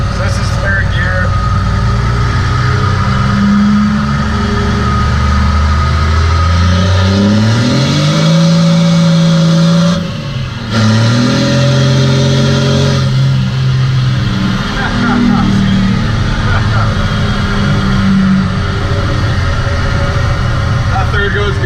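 A 100 hp automatic car accelerates in third gear, its engine note climbing steadily and loudly from inside the cabin, dipping briefly and then rising again, while people talk over it.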